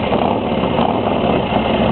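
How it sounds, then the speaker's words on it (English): A 2005 American Iron Horse chopper motorcycle with a 2-into-1 exhaust runs close by, its engine a loud, steady rumble throughout. "I'm going to start it up."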